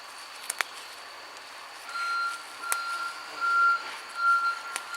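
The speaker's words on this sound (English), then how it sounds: "a lorry's just turned up at the bee place at the back" A lorry reverses at the back of a garden, its beeper sounding in distant, repeated tones over faint background hum, with a few soft clicks nearby and no talking.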